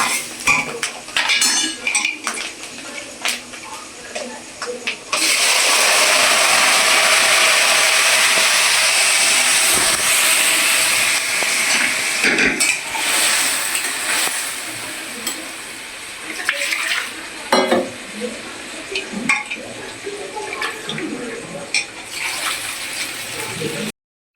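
Lentils (dal) drop into a hot pan of browned fried coconut, setting off a loud steady sizzle that fades into scattered metal spoon scrapes and stirring against the cookware, with a person talking at times.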